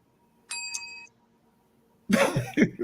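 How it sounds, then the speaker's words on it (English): A single bright bell ding rings out clearly, then a short burst of rough, throaty noise like a cough or voice follows. "Give himself a little bell there."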